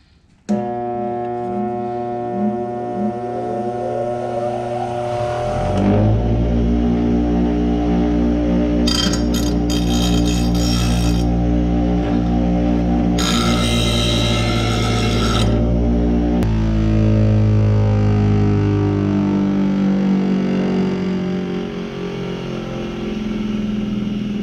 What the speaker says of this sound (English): turn the bench grinder on and use it to go ahead and clean off these edges real good